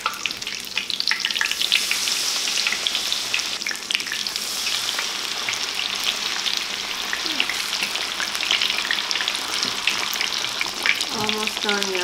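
Battered onion tempura deep-frying in oil, a loud, unbroken crackling sizzle with rapid popping throughout, heard close up, with a brief murmur of a voice near the end.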